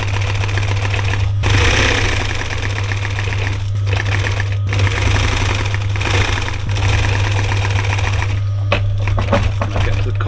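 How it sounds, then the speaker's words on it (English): A sewing machine stitches a border onto a campervan cushion cover, whirring in a loud, steady mechanical rattle for several seconds at a time, with brief pauses between runs. "and then I will start to sew it on"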